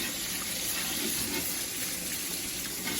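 Tap water pours in a steady, close, hissing rush over a glass cutting board to rinse off etching cream, unbroken for the whole stretch with no talk.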